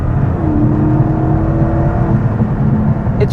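A 2023 Chrysler 300C Hemi V8 rear-wheel-drive sedan under way, a steady loud engine drone with a rising tone as it pulls, heard from inside the car.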